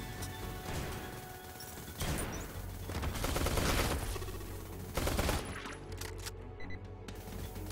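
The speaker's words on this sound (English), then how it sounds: "SMG, faster rate of fire" SMG gunfire in the top-down shooter Neon Chrome, rapid bursts of fast-firing shots with crashes and impacts layered over game sound, loud and dense with brief gaps.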